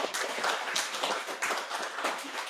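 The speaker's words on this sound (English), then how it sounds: "a little round of applause for" A small audience gives a short round of applause at a live in-conversation event, steady dense clapping filling the whole moment with no voices over it.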